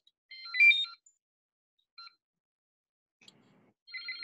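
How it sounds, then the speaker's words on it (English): A circuit tester's short-circuit alarm sounding as a few brief electronic beeping bursts separated by silent gaps, clear but fairly quiet, with no voices. "That's the alarm for a short circuit."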